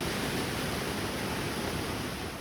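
Davao Falls on Samal Island, Davao del Norte, a dense, steady roar of falling water filling the whole clip, loud and close, with no voices.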